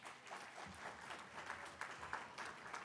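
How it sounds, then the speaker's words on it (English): Crowd applause at a Do The Write Thing awards ceremony, brisk clapping from an audience heard faintly and at a distance, steady and uneven in texture for a few seconds without any talk. "Give yourselves a round of applause."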